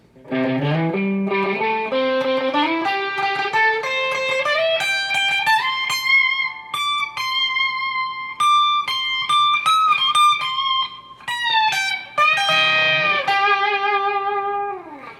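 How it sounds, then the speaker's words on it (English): A distorted electric guitar slowly plays a song's solo, climbing through bent and sustained notes with a steady, singing tone, loud and up close, no voices. "here's that entire solo played through one time slowly"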